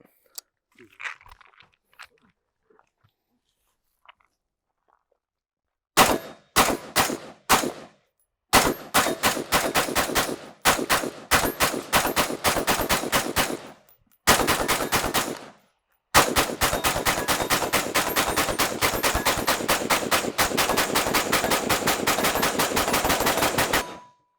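A DTT flagship rifle fires rapid strings of rounds at a target, loud sharp reports in several short bursts separated by pauses, then one long sustained volley, after faint quiet movement at the start.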